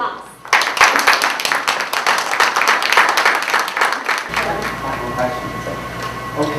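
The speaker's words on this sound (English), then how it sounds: "Let's give Honorable Mayor Parker a big hand of applause." Audience applause for a city mayor at a media reception, a dense burst of clapping from a room of people that starts abruptly and runs for several seconds before tapering into room noise.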